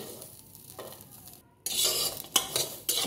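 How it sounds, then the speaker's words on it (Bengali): Green chilies are stirred in a hot pan with a utensil, giving a soft sizzle broken by quick scraping and clinking bursts against the metal. "একটু নাড়াচাড়া করে নিচ্ছি।"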